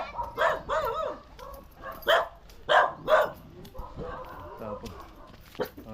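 A dog barks in a series of sharp, fairly close barks, mostly in quick pairs, with quieter sounds and some background activity between them.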